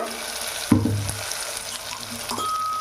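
Ginger garlic paste frying in oil in a pan for egg fried rice: a steady soft sizzle, with a low thump as the paste drops in, then a couple of light clinks of the spoon.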